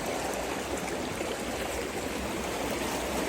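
Steady rushing water from a cold flowing creek below a lot fills the whole clip with broadband noise, continuous and fairly close, with no voices.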